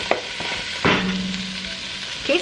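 Minced garlic hits a hot pan with onions and sizzles steadily, with a few sharp scraping stirs of a utensil cutting through the frying hiss.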